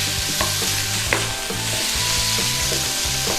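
Beef stir-frying in a pan for pad kra pao, a steady loud sizzle with rhythmic scraping and tossing strokes repeating throughout, close and without talk.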